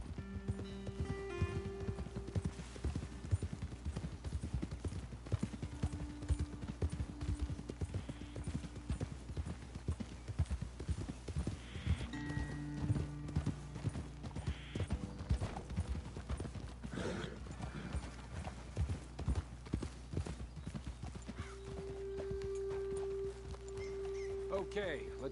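Horses trotting in the Red Dead Redemption 2 video game, steady clip-clop hoofbeats throughout with an occasional snort, under game music and intermittent speech from characters.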